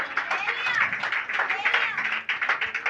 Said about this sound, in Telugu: చప్పట్లు కొట్టను మరి